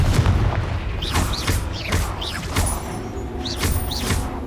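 A Confringo fire spell blasting during a duel in the Hogwarts Legacy video game: repeated booming impacts with sharp whooshing, chirping bursts, layered into a dense, busy battle mix.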